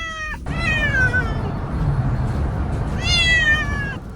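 A new kitten meows and cries loudly inside a car during an hour-long drive, giving two long drawn-out wails with a short cry at the start over steady road rumble.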